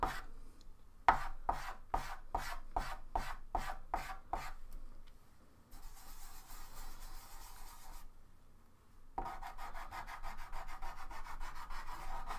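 Pastel stick scraping and rubbing on paper while drawing a fox: a run of about ten quick rhythmic strokes, then longer continuous rasping passes, close and quiet with no talking.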